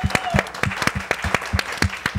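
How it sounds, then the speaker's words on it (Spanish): A television studio audience applauds the singers of a tango show, rhythmic unison clapping in a steady beat with crowd noise and a voice underneath. "Un aplauso para los tres."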